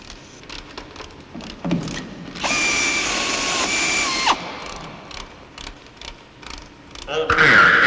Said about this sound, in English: The patches are attached with appropriate fasteners, picking up existing rib structure where possible.